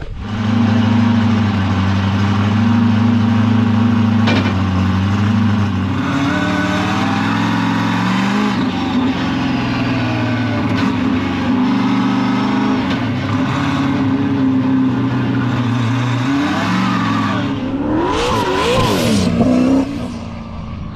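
A Subaru BRZ, a 2014 model fitted with a 2022 facelift, drives with a loud mid-pitched engine note that rises as it accelerates through gears and then settles, heard close and continuous with no talking.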